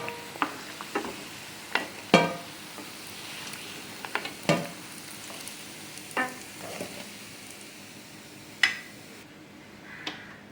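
Badusha pastries frying in hot oil, a low steady sizzle broken by scattered clicks and scrapes of a utensil turning them, with no talk.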